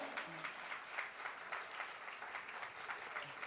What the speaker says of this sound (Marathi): जोरदार टाळ्या, जोरदार टाळ्या